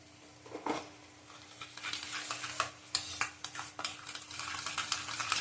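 Yogurt stirred into chicken frying with panch phoron in a pan, a spoon scraping and clinking through soft sizzling in a steady run of short strokes, close and fairly quiet.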